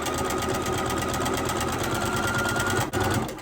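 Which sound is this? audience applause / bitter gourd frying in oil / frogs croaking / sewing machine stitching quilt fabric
sewing machine stitching quilt fabric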